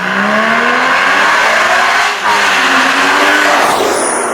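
An Evora GT sports car engine revving hard, its exhaust note rising and falling in pitch with a brief dip mid-way, loud and close.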